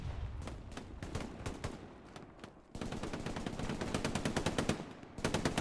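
Machine gun fire in a WWII video game battle: irregular bursts of shots open the stretch, then after a brief lull a long, steady, rapid-fire burst rattles on loud and close, with another volley at the end.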